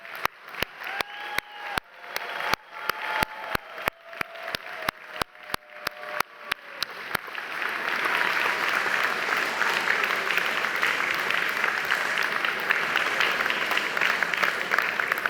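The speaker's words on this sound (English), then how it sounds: "please join me in applauding the new members of the Central European University" Loud, dense applause from a large audience fills a university graduation ceremony for the Central European University class of 2024. Scattered sharp claps come first, then they swell into a steady, sustained roar of clapping.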